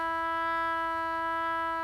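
Sustained synthetic trumpet note from a Swam trumpet VST with vibrato at zero, a flat, unwavering tone with rich harmonics held steadily for the whole clip, clean and alone.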